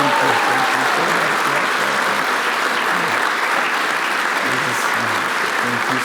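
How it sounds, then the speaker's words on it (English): An audience applauding a prize committee at an environmental award event, dense sustained clapping from many hands, loud and even throughout, with faint voices mixed in. "So if you want to applaud, this is the time. Applaud them."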